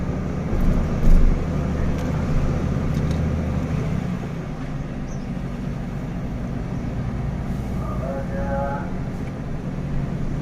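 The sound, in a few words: Ford F-Max truck climbing a mountain ramp in manual gear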